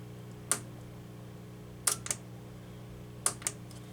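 Faint, close key presses on a Kidde FX fire alarm panel keypad as a password is entered, a handful of short clicks in small clusters over a steady low hum.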